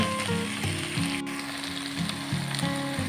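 Continuous sizzling of raw jackfruit frying in hot spiced oil, with a low background hum and occasional clinks, no voices.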